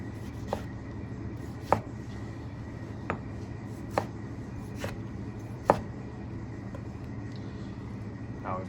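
A knife dices vegetables on a cutting board into bigger cubes, giving sparse, crisp taps spaced about a second apart over a steady background hum, close and fairly quiet, with no talk.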